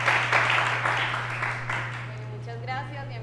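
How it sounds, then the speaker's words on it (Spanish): Audience applause at a talk on traditional Andean Colombian music fills the room as a dense patter, gradually fading away over a steady electrical hum. "Muchas gracias y un aplauso."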